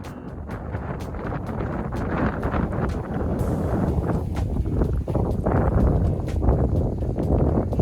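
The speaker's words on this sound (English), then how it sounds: "Windy day today, it's cold, but I'm getting out for my walk." Steady, rough wind buffeting a microphone outdoors, with low rumbling gusts and some scattered clicks throughout.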